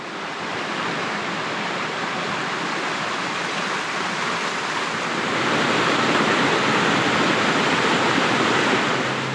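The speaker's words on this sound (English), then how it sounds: "I can hear a waterfall" A waterfall pours out beneath a small bridge along the bushland between Belrose and Palm Beach, a dense, steady rushing roar that swells slightly louder toward the end, with no voices.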